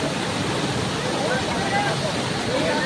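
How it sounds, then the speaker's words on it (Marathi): Waterfall at Korambi, a dense constant rush of falling water filling the scene at steady loudness, with faint voices mixed in. "अशा पद्धतीने आपण कोरंबी येथील धबधबा पाहिलेला आहे"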